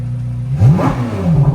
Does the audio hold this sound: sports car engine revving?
yes